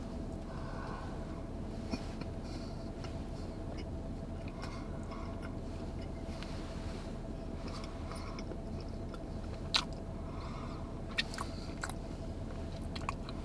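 A cream-filled chocolate donut is chewed with soft, muffled squishy mastication under a steady low background hum, plus a couple of faint clicks, quiet and close, with no talking.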